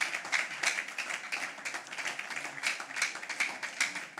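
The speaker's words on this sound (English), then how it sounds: "A round of applause once more for the founder of SQI College of ICT" A smaller audience at a scholarship event clapping in uneven bursts, individual hand claps standing out in a loose, pulsing rhythm that swells and dips, moderately quiet and slightly distant.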